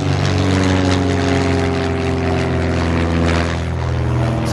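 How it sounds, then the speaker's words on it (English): An airplane passing overhead outdoors, a loud steady propeller-like engine drone with a strong low rumble that holds throughout, alone with no talk. "It's a plane"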